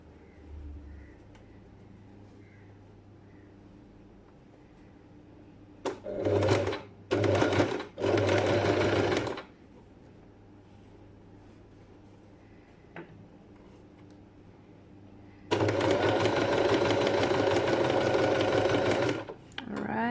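A sewing machine top-stitches fabric for an accordion pocket in three short bursts of rapid mechanical whirring, then pauses before a longer, steady run of stitching near the end, close and clear over quiet surroundings.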